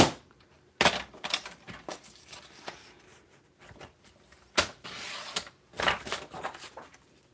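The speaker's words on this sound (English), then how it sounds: "Let's just cut about 4 inches off of here." Garden material is snipped and cut in a series of sharp, crisp clicks and crunchy bursts at close range, irregularly spaced with quiet gaps between.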